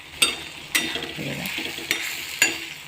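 Brinjal bharit mixture with onion being stirred on a tawa, a soft steady sizzle broken by four or five sharp spatula scrapes and clinks against the hot pan at a slow, uneven rhythm.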